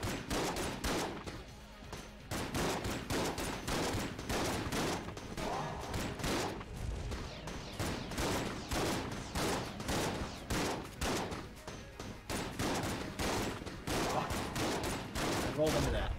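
Video game gunfire, dense rapid bursts of shots firing steadily for most of the stretch, loud and close, with brief pauses and some talk mixed underneath.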